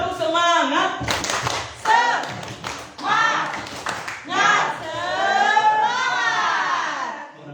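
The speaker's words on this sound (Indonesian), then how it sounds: "Coba, boleh. Tepuk semangat." Group clapping chant at a community education centre gathering, with bursts of rhythmic claps alternating with lively voices chanting and talking over them.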